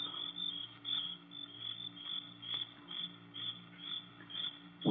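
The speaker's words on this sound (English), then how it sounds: "there wasn't a sound except the crickets, shrilling so loudly the noise seemed to beat inside my brain" Crickets shrill steadily at night beside a dock, a dense, loud, pulsing chorus that carries without pause, with a low hum beneath and a brief thump at the very end.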